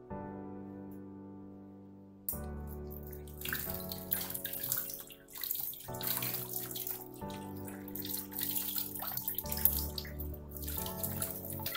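Water runs from a touchless faucet during hand washing, starting abruptly after a brief hum and splashing steadily with shifting, irregular patter as hands move under the stream.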